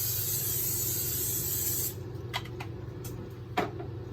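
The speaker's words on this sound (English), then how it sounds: "We're gonna put in some spray canola oil." Canola oil spraying from an aerosol can into a pan for cooking shrimp, a steady loud hiss lasting about two seconds, then stopping, followed by a few faint clicks and taps.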